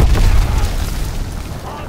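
A heavy grenade blast in a Call of Duty WWII battle, one deep boom at the start that rolls off and fades, with soldiers shouting in the mix.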